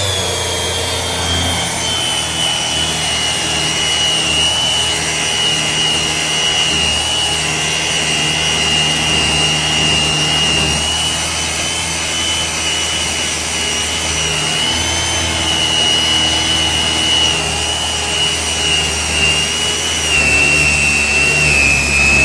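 Power tool set to grind steadily works down a solid surface plug, a loud continuous high whine with a constant rough buzz that holds level throughout without pauses.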